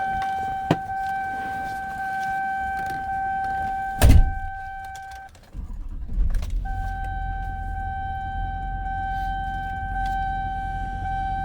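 Electronic warning chimes ring steadily, then a 2007 GMC C4500 Topkick truck engine cranks and catches, settling into a low, steady idle close by as the chimes resume.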